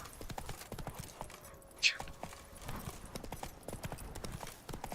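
Horse hooves clip-clop steadily on the ground in The Witcher 3: Wild Hunt, a quick even rhythm of close, crisp knocks with a brief bright accent in the middle, with a voice faintly audible in the background.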